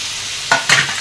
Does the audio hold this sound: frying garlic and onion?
yes